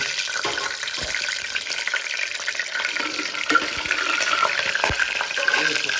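Ingredients for a quick pulao frying in a pan: a continuous close sizzle with occasional stirring scrapes and knocks, and faint voices in the background.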